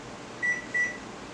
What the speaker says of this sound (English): our microwave is finished with the first heating